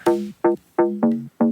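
Five short, punchy synth notes from a dry mix without reverb play in a loose rhythm, each cutting off cleanly with no lingering tail or room echo.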